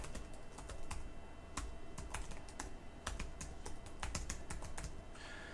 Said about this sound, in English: You got to start off with https:// and then you just type in your URL.